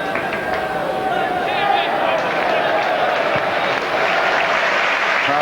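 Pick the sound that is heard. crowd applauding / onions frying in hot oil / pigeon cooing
crowd applauding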